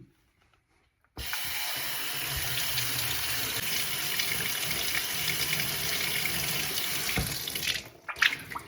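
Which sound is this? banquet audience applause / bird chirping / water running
water running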